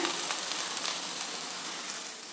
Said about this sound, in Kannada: ರವೆನ 2-3 ನಿಮಿಷ ಸ್ವಲ್ಪ ಹುರಿಬೇಕು